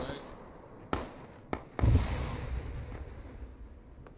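A grenade blast in a military tactical video game: a few sharp pops, then a heavy low boom that rolls off into a long rumbling tail, with radio-style chatter in the background.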